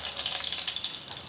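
Mustard seeds, cumin and whole dried chillies frying in hot refined oil, a bright continuous crackling sizzle with fine popping, close and steady throughout, no talking.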